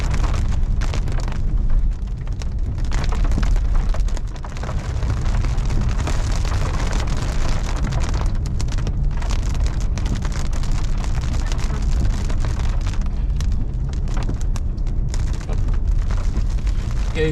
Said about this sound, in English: So apparently this storm is developing, like I said, right over us.